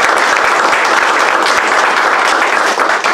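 A loud, dense round of audience applause fills the hall at a Eurasia foundation event as Prof. Dr. Remzi Demir is invited up. The clapping is steady and close, with no talking over it.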